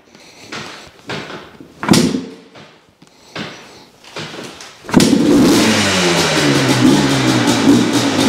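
A 1998 Yamaha Blaster two-stroke ATV is kicked several times with clanking strokes, then fires up and settles into a loud, continuous buzzing rev close by.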